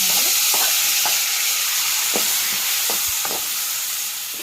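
Drumsticks and masala stirred and fried in hot oil for a biryani, a steady sizzle and hiss with repeated scraping stir strokes, close and fairly loud with no talking.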